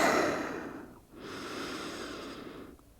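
A person breathing slowly and deeply while resting in yoga child's pose, with a long audible breath that fades, a short pause, then another drawn-out airy breath, close and soft with no talking.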